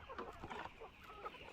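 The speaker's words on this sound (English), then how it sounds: "you can see my birds are out. They are really enjoying eating the grass" Free-range poultry chickens cluck softly on a farm while out grazing on grass, making a scattering of faint, irregular clucks and calls that overlap at a low level.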